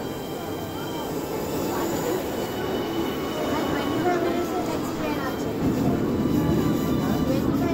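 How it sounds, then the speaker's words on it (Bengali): A train pulls into Carbis Bay station on the St Ives line in Cornwall, its steady rumble and wheel squeal filling the clip with continuous, moderately loud noise from close by. "কার্বিস বে এসে গিয়েছে ট্রেন।"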